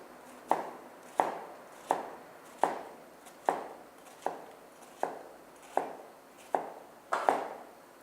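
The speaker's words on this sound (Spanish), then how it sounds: "Aplicar el corte brunoise en una cebolla consiste en hacer cortes verticales" A knife chops an onion into brunoise on a board, about a dozen crisp, evenly spaced cuts, each a sharp knock with a short tail, close and clear with no talk.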